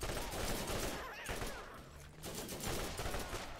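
Shotgun blasts in the video game Borderlands ring out amid a dense, continuous barrage of game combat noise, heavy booms layered over one another for several seconds without a break.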